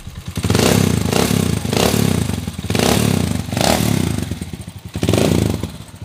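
A Honda TMX125 Alpha motorcycle converted to a 175cc engine runs loud and close, its rough engine note rising and falling through several revs with clattering mechanical noise.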